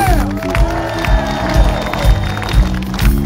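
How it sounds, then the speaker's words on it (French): A concert audience claps and cheers loudly for the orchestra's technical crew. The applause is dense and sustained, with a musical tone ringing out underneath. "on les applaudit très très fort"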